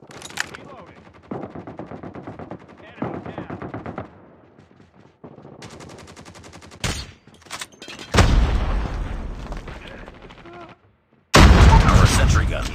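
Video game battle gunfire with bursts of automatic weapon fire and single shots, building to loud, dense volleys with booming impacts near the end, mixed with radio-style voice callouts.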